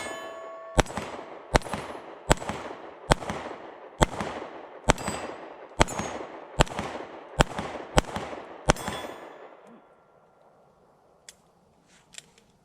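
Pistol fire from a Springfield Hellcat or Sig P365 compact handgun at a range: about ten sharp, loud shots at an even, steady rhythm, each with a ringing tail, followed by faint metallic clicks.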